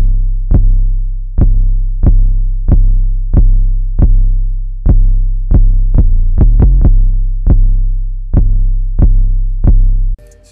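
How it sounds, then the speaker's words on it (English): Deep 808 bass pattern from an FL Studio hip-hop beat booms alone, each loud sub-bass note decaying slowly, with a quick cluster of hits midway in an otherwise steady repeating rhythm. "And then the 808 pattern sounds like this."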